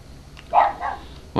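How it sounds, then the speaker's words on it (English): A dog gives a single short bark, then a second starts at the end, over a low background hum. "doggy's barking right now"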